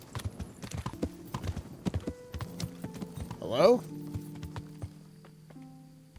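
Horse hooves clip-clop in the medieval game Kingdom Come Deliverance, a quick, uneven run of close hoof strikes with a voice calling out over them.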